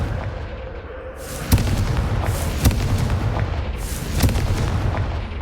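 Confringo fire spell blasts in Hogwarts Legacy, several loud booming explosions about a second apart over a rumbling low background, no voices.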